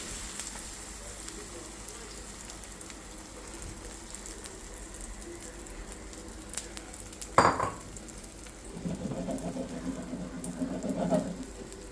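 Beaten egg poured over a dish in a hot pan gives a soft, steady sizzle, with a sharp clatter of utensil against pan partway through and a louder burst of frying toward the end.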